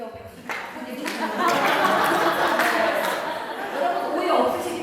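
An audience at a women's committee lecture in Cheongwon-gu breaks into applause, a sustained wash of clapping that swells and holds over several seconds, with scattered chuckles and chatter mixed in.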